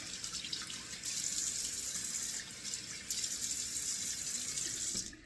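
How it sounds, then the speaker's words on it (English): Steady running cold water from a tap splashing into a sink, continuous and fairly close, with brief surges in the flow and no voices. "So let me do 2 splashes of cold water first."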